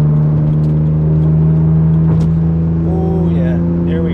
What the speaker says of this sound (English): She's definitely shifting a lot higher in the rev range than she was before